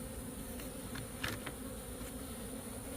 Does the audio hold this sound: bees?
yes